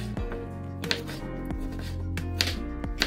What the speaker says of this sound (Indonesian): Lalu ini akan kita potong-potong dadu seperti ini.